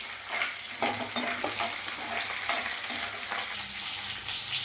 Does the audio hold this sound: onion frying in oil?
yes